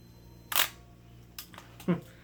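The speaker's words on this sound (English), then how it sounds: "That is your timer. And there's your shutter." A sharp mechanical shutter click from a Minolta camera, followed by a couple of softer clicks and a final muffled snap, heard close in a quiet room.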